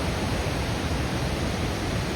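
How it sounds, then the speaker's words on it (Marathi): Vasundhara waterfall roaring with water rushing down under great pressure, a dense, steady broadband wash that stays loud and unbroken throughout, with no voices. "वसुंधरा वॉटरफॉल इतका मोठा येतो आणि एकदम प्रेशर त्या पाण्याला."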